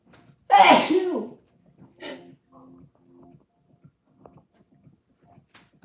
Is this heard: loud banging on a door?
no